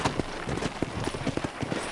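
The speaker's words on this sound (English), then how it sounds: "let's see if you can still ride a horse" Horse hooves clip-clop in the Red Dead Redemption video game, a quiet, regular run of hoof falls on the ground at a steady trotting pace, with no voices over them.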